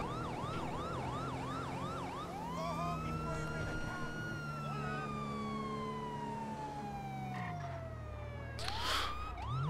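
A wailing police siren in a video game cycles rapidly, then shifts into long slow rising and falling sweeps, with a steady engine hum underneath.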